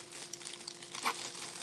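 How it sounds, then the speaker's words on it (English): Plastic bags holding jewelry, including pearl necklaces, make faint, close crinkling and rustling, with one slightly louder crackle partway through. "Sorry about that crinkling noise, but I keep my Z's inside the bags at all times"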